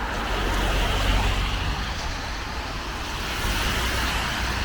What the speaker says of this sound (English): I already see quite a few cars here